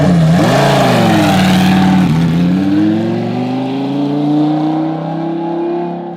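A race car at Buttonwillow track accelerates hard, its engine note dipping on a shift and then climbing steadily in a long loud rev, heard fairly close with no talking.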